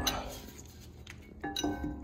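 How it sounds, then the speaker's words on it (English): Metal clinks and knocks from a hefty brake rotor being pulled off the hub of a 2018–2021 BMW X3, a few close, light metallic contacts over a quiet workshop background, with no talk. "I'm just gonna remove this rotor."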